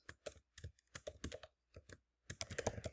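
Fast typing of code on a computer keyboard, close and crisp, bursts of keystrokes separated by short pauses, with a denser run of clicks at the end.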